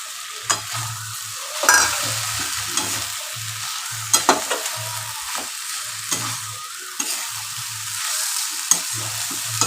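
Shrimp sizzling and frying in a pan for a Bengali banana-blossom dish, with a steady hiss broken by a regular rhythm of soft scraping stirs from a spatula.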